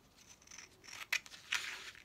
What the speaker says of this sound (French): Nous le découpons.